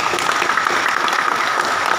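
Steady applause from an audience filling the whole moment, dense and even with no gaps, and no voices standing out above the clapping.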